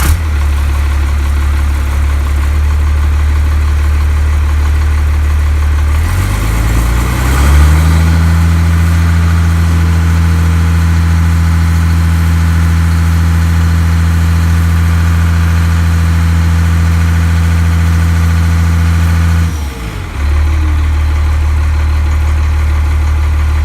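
A first-generation Cummins diesel truck engine with a new Diamond Eye exhaust rumbles at idle, revs up briefly after a few seconds, then settles into a steady deep drone before a short dip near the end.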